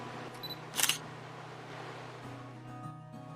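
A single sharp camera shutter click stands out over a steady low hum and quiet outdoor background.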